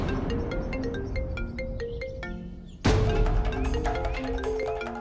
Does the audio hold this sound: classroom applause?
no